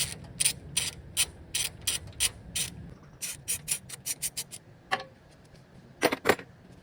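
A hand ratchet clicks in quick rapid bursts while loosening a 13mm fastener on a car's A/C line, several runs of sharp close clicks separated by short pauses, no talk.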